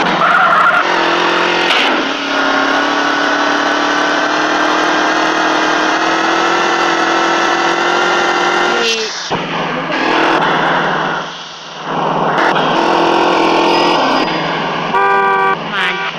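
Continuous engine drone of a car driven in GTA San Andreas, steady and loud for most of the stretch, with tire squeals and a brief horn-like toot mixed in, dipping and shifting in pitch near the end as the vehicle maneuvers.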